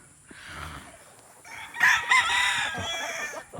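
A gamecock rooster of claret, gull and Allen roundhead bloodlines crows once, a strained rising call followed by a drawn-out tail, fairly near and moderately loud against a quiet yard.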